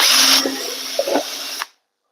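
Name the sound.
power drill drilling holes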